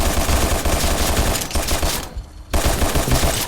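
Video game gunfire, a dense continuous roar of rapid automatic shots at high volume that drops out for half a second and then resumes just as heavy, with no voices over it.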